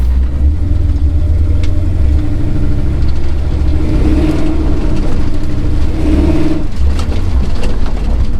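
A Chevrolet C10 pickup with an engine problem drives along, its engine droning loud and steady with low rumble and mild rises in revs throughout, and no talking.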